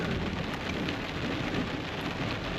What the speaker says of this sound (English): I don't know if you could hear that thunder.